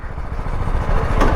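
A Suzuki V-Strom 250 SX motorcycle idling up close, its single steady engine throb pulsing evenly with a slight rise in loudness toward the end.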